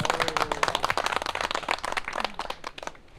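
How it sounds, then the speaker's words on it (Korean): A small crowd claps briskly and unevenly at the awards of a snakehead lure fishing tournament in Korea, with close individual hand claps forming a dense, lively patter throughout. "자, 박수 한번 주세요."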